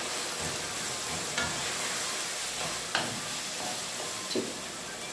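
Peas cook in a pot with water, giving a steady hiss and bubbling with a few faint knocks, the sound even and moderately quiet throughout.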